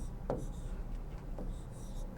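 Quiet marker strokes squeak and rub across a board, two short scrawls about a second apart against a steady room hiss.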